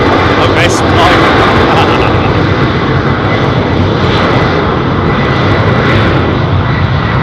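Aircraft engines at London Heathrow Airport give a loud, steady, broadband roar that fills the whole stretch and drones on evenly without fading, as if from a plane close by.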